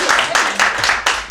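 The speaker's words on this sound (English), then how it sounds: "Big round of applause for that." A comedy-show crowd claps, a short burst of applause whose loud rhythmic pulses come at roughly even intervals, close and fairly loud.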